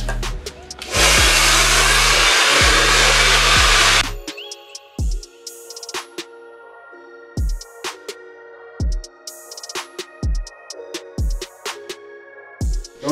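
A hair dryer blows loud and close on its maximum temperature setting for about three seconds, a steady roaring whoosh. It then cuts off, leaving a series of sharp intermittent clicks and knocks.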